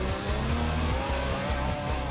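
Off-road race cars leave the start one at a time in a 60-mile desert race, their loud engines revving hard in rapid pulsing bursts as they pull away.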